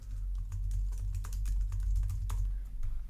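Rapid, uneven keystrokes clatter on a computer keyboard, close and clear, in a steady burst of typing over a low background hum.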